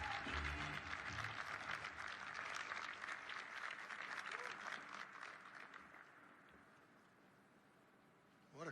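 Sustained audience applause from a large crowd at a breakfast event, welcoming Georgia's 75th Speaker of the House, John Burns; dense clapping holds steady for several seconds, then gradually thins and fades toward the end.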